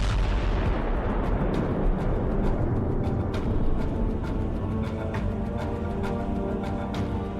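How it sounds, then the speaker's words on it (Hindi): Continuous rumbling blasts from weapon-laden trucks struck by a drone strike, dense booming and crackling bursts that stay loud and sustained, with sharp repeated pops scattered throughout. "अमेरिका के इस ड्रोन स्ट्राइक से ट्रकों में बहुत जोरदार धमाके हुए"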